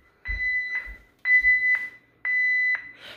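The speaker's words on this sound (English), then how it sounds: "The entry delay will start as the burglar alarm does not know that an unauthorized person has entered the door." Burglar alarm entry delay warning tone: three loud steady electronic beeps, each about half a second long and evenly spaced, sounding alone with no talk.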